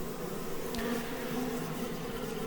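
A honey bee swarm crawls over the landing board into a brand new Langstroth 10-frame deep hive, giving a steady, close buzzing drone that holds evenly throughout with no talking.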